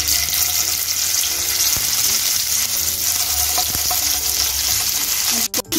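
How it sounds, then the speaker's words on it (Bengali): Paneer pieces lightly frying in melted ghee in a pan, a steady close sizzle with occasional stirring clinks, no talking. "পনিরগুলো আমি হালকা করে ভেজে নেব।"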